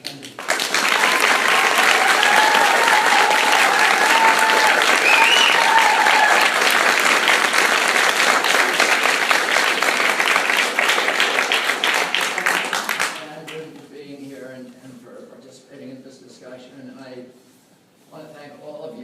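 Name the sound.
audience applause welcoming the speaker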